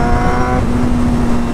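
Loud exhaust note from a 1999 Honda CBR 600 F4 600cc motorcycle, a short steady buzzing drone held close and strong without a break.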